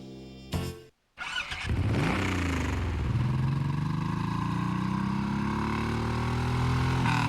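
A powerful engine revs up loudly in a TV commercial, starting with a sharp burst and brief pause, then a sustained climbing roar with rising pitch that holds steady and close.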